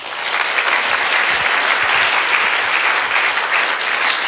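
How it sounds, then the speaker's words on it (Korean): A church congregation breaks into steady, sustained applause, a dense wash of many hands clapping at once, loud and even for several seconds with no voice over it. "한번 박수 한번 칠까요?"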